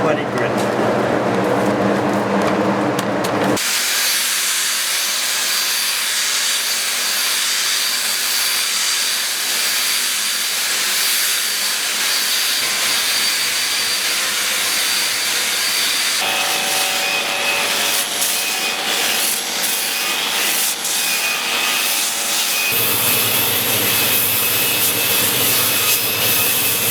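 Sanding a surfboard with 120 grit sandpaper, a steady loud rasping hiss of abrasive rubbing that runs throughout, with changes in tone as the strokes shift, and talk heard alongside.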